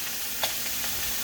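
Meat sizzles loudly and steadily in a hot pan as it starts to burn, a dense continuous hiss with a small pop partway through and no speech.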